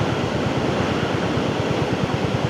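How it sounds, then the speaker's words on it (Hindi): A waterfall in the hills near Tawang in Northeast India pours with a constant dense rushing roar, close and even with no break. "झरने की आवाज़ बहुत कामिंग रहती है"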